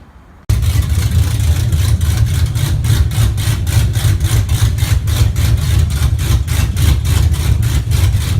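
LS1 V8 swapped into a Nissan 240SX S14 drift car fires up after a short quiet moment, then settles into a loud, steady, lumpy idle with a strong low rumble and a regular pulsing beat.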